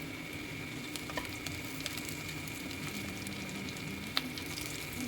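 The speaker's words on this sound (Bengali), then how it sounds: "তাই পেঁয়াজগুলোকে আমি একটু লাল লাল করেই ভেজে নিচ্ছি।" Onions for a bottle gourd curry frying in a pan, a soft steady sizzle heard from fairly far off, with a few faint clicks of stirring and no voices.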